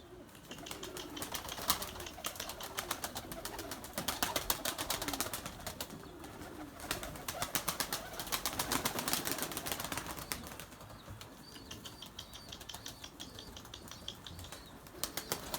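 Erzurum white breeding pigeons flap their wings in repeated bursts, with soft cooing underneath throughout, close by and moderately loud.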